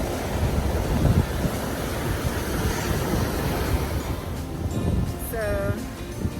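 Surf washes ashore at Playa del Carmen beach in Mexico, a continuous rushing roar mixed with wind buffeting the microphone. A brief whistle-like tone rises near the end.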